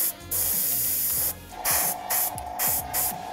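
An airbrush sprays flesh-coloured base coat paint onto a Superman figure, a close hissing spray in short bursts, one longer burst followed by several quick repeated puffs, with a faint hum beneath.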